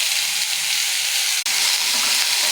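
Potatoes frying in a pan with onion and green chili, producing a loud, close, hissing sizzle that continues without a break apart from a brief dip midway, with no voices.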